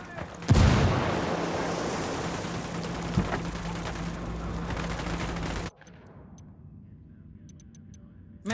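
Gunfire in Ghost Recon Wildlands: a loud burst opens into sustained, dense shooting and booming for several seconds, then cuts abruptly to quiet with faint ticks at the end.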